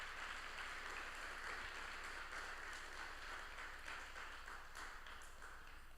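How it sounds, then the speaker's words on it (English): A room of attendees at an informal UX Beers meetup in Antwerp gives a steady round of applause, a dense, continuous patter of clapping that holds at an even level for several seconds without talk. "So please give him a warm round of applause."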